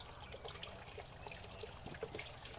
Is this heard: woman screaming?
no